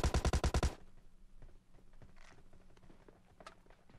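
Automatic gunfire in the mobile battle royale game PUBG Mobile: a rapid burst of about seven loud, close shots in under a second, then a low rumbling game ambience with faint clicks and scattered distant pops.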